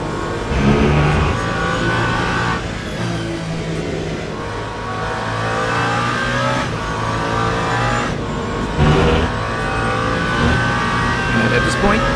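Race car engine from the Le Mans Ultimate game during the 24 Hours of Le Mans, a steady loud drone with rising and falling revs and gear changes, running continuously with a voice talking over it.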